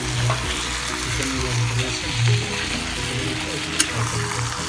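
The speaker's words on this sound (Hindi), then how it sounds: "अब मैं इसमें चिकन डाल दिया और इसको प्रॉपर अच्छे से फ्राई कर" Chicken pieces fry with fried onions in a pan for a spicy Old Delhi style gravy, producing a continuous loud sizzle with low humming tones and an occasional sharp tap.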